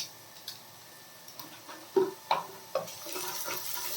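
A spoon stirs sugar into mutton curry in a pot, giving a few soft scraping and clinking strokes spaced irregularly against a quiet background, with a faint sizzle underneath.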